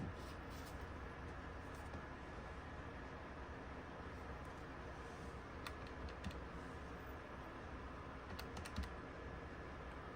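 Buttons pressed on a Casio fx-570EX scientific calculator, a string of soft clicky taps over a faint steady background hiss, with small bursts of quick presses.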